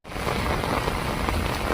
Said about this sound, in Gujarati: ગામ સિમર ના આવો વરસાદ આવ્યો